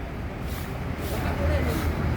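A bus rolls up from behind with hissing air-brake bursts over rumbling road noise, while voices murmur nearby.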